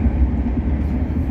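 Inside a British Rail Class 170 diesel unit on the move, a steady low rumble and droning engine hum fill the cabin, constant and fairly loud with no speech.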